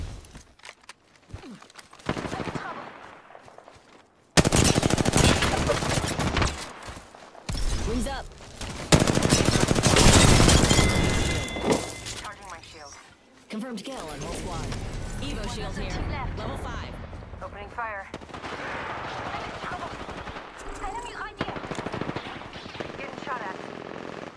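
Bursts of automatic gunfire ring out in an Apex Legends match, loud rapid volleys that come and go across the stretch, mixed with game effects and with a voice talking over parts of it.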